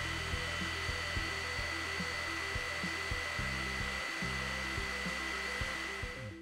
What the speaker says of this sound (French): Le ventilateur auxiliaire fait quand même beaucoup de bruit.